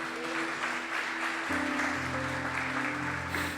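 A church congregation applauding during a Sunday service, steady clapping layered over sustained organ or keyboard chords that shift partway through.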